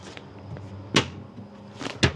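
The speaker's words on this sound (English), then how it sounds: "And then should be a door that comes down." Storage compartment door in a 2025 Airstream Caravel 16RB travel trailer, opened and closed with a few sharp knocks and clacks, one clear thud near the middle and two more toward the end, close by in a quiet interior.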